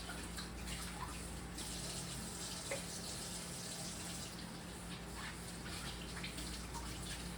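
Tap water runs steadily into a sink while kale is washed, a continuous close hiss and splash at constant loudness throughout, with no voices.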